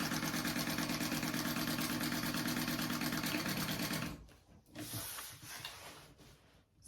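A sewing machine runs fast and steady, stitching a half-inch seam on a bag with an even rapid chatter. It stops after about four seconds, and faint handling rustles follow.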